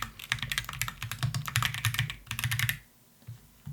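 Rapid bursts of clicking keys on a computer keyboard, close and fairly quiet, tapping in quick uneven runs before stopping near the end.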